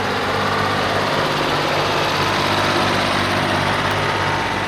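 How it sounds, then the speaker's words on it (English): The engine of a Model M wide-front, low-profile tractor runs at a parade, a loud continuous mechanical rumble and chug that holds steady throughout with no talking. "Model M, which is a wide front tractor."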